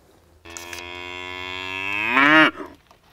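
One long, deep cow moo swells and rises in pitch before cutting off, close and loud, with no talking.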